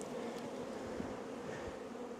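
Honeybees swarm around an open hive across frames full of brood and pollen during an apiary inspection on a very hot day, giving a steady, dense, close buzzing drone that runs unbroken throughout.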